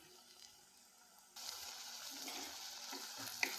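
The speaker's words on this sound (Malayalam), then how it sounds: "ഇങ്ങനെ ഇളക്കി കൊടുക്കാം" Pineapple thoran being stirred in a frying pan, a soft sizzle that jumps to a louder, continuous frying hiss partway through, with faint scraping of the spoon and no talking.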